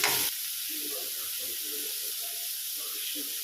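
Masala for bangude (mackerel) pulimunchi sizzles in a pan, with a sharp burst as the spices hit hot oil and then a steady, soft frying hiss, while a voice murmurs faintly underneath.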